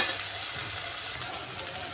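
Tomatoes and mixed vegetables such as carrot and capsicum soften in a pan for pasta, giving a steady, close, gentle sizzle and bubbling with faint stirring and no talk.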